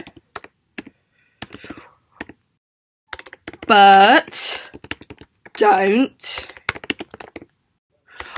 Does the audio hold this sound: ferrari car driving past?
no